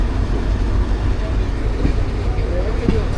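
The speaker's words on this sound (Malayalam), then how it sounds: "അപ്പുറത്തൊരു ആൽക്കോ ഷണ്ടി നടക്കുന്നുണ്ട്." An ALCO diesel locomotive shunts at Shoranur Junction with a steady low rumble and drone, heard from the platform under busy station ambience.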